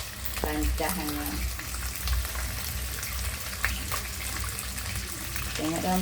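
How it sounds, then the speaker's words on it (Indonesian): Salted fish fries in a pan with a steady, crackling sizzle close up, punctuated by occasional clinks of a utensil, while people talk quietly in the background. "Kita goreng ikan asin yang setek tinggal ya."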